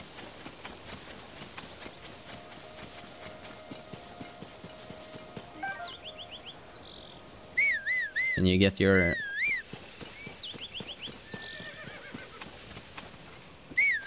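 In Zelda: Tears of the Kingdom, a bad-tempered horse gives a short whinny midway amid light clip-clop hoofbeats and game ambience, while a person speaks briefly over the scene.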